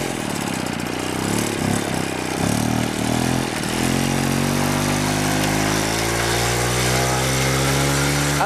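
A 1974 Renaissance Cady M3 motorcycle climbs a slope, its engine pulling loud and close, with a few sputtering pops early on before settling into a steadily rising, laboring drone.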